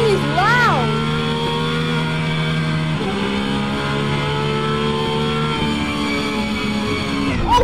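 A racing car engine revs loudly and steadily in the Assetto Corsa driving game, its pitch dropping at gear shifts around the middle and later part.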